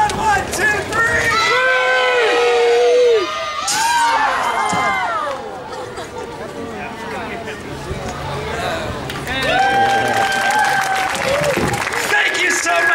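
Outdoor street-performance crowd at Pier 39 on Fisherman's Wharf, San Francisco, drumming by slapping knees and smacking balcony railings, a loud rumbling patter that builds, with cheering, whoops and children's shouts mixed in.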